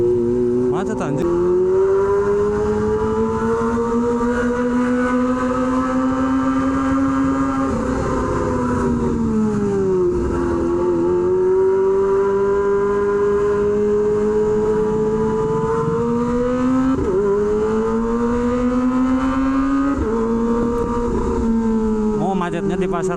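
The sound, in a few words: motorcycle riding in a traffic jam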